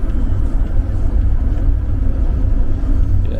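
A bus travels along a road toward Kharkiv, Ukraine, giving a steady, loud low rumble of engine and road noise that continues without a break.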